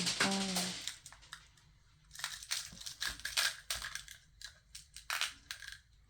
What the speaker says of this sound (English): These are going to start going on the floor and making a huge, there we go.